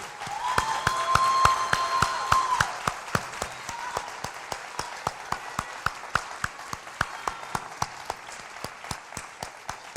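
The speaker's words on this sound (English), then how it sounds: "join me in a round of applause for all the support given to you by your family members, friends, and faculty" A graduation audience at a community college ceremony breaks into applause, dense clapping and a few cheers at first that thin out into scattered, sharp individual claps.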